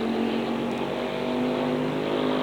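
Pro trucks race side by side at Holland Speedway in 1997, a steady, loud drone of engines holding high revs throughout with no let-up, heard from trackside.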